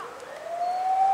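An ambulance siren wails continuously nearby, its rising tone sustained and steady beside a road near a large keyhole-shaped burial mound, with no talking.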